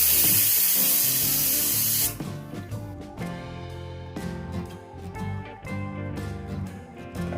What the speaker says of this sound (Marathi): कुकरची 1 शिट्टी काढून घेणार।